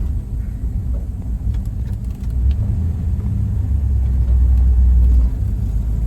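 A 1950 Oldsmobile 88 with a 303 Rocket engine and three-speed manual, driving slowly in second gear, gives a loud, steady low rumble from inside the car that swells a little toward the end, with no talking.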